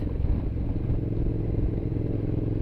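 A Ducati Diavel cruiser motorcycle riding along with a worn chain clunking, a low rumbling engine drone with irregular rattly knocks underneath, steady and close, no talk.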